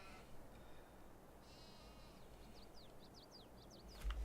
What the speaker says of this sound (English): I can pet the lamb, pet the pretty lamb.